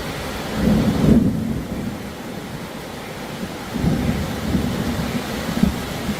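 A Florida thunderstorm with rain brings two low, rolling rumbles of thunder over a steady wash of rainfall, moderately loud and with no voices.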